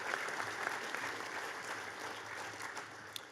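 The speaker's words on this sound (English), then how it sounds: "how about another quick round of applause for the Mancuso brothers" A dinner audience at an awards banquet breaks into steady applause, a dense, even wash of clapping that holds for several seconds without talk.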